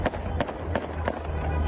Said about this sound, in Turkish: Önceki gün Kepez'de havai fişek attılar.